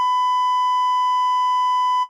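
A censor bleep sounds from a button press: one loud, pure steady tone held for about two seconds before cutting off abruptly, with nothing else heard.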